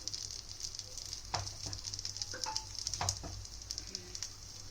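Paniyaram cooking in a pan, faint soft sizzling with a few light taps and clinks as the pieces are flipped, over a low steady hum.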